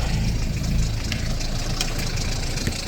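A Ford Fiesta 1.8D diesel engine idles after a jump start on a cold morning, a steady close low rumble with a faint rhythmic knock, no voices.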